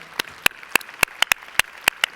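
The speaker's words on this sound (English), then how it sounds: "I'd like a round of applause" A few people clap for former footballers at a FIFA women's football convention. The claps are close, sharp and separate, about eleven in all, in an uneven, sparse rhythm.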